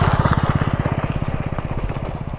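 A Honda SP 125 motorcycle engine idles close by, giving a steady, fast low thumping pulse with no talk over it.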